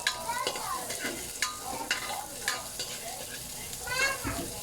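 Onions tossed into a hot pan for Pancit Cabagan, frying with a steady broadband sizzle and repeated scraping stirs, while children's voices and chatter sound faintly in the background.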